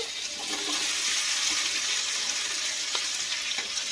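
Okra pieces frying in hot oil in a pan for a home-style curry, giving a steady close sizzle throughout with a few faint clinks of stirring and no voices.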